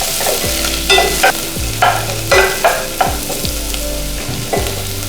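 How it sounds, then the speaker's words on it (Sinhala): Onions sizzle in hot oil for chicken curry and are stirred at a steady rhythm, each stroke of the spoon scraping the pan through a constant loud frying hiss, with no talking. "හරි දැන් මගේ ලුණු ටික චුට්ටක් බැඳීගෙන එනවා"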